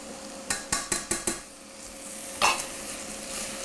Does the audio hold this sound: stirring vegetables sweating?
yes